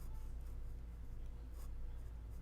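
A Taccia Kaku-Tate fountain pen scratches across paper in slow, deliberate strokes, a faint dry rasp that comes and goes over a low hum, with no voices.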